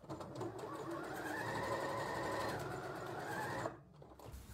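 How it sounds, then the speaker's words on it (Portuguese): A sewing machine runs a reverse stitch along a towel seam, a steady close whirring hum for a few seconds that stops abruptly near the end. "Faz retrocesso e a gente finaliza aqui a costurinha que a gente desmanchou."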